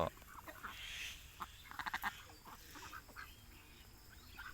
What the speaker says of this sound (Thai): พามาให้อาหาร น้องเป็ดยามเช้าๆนะครับ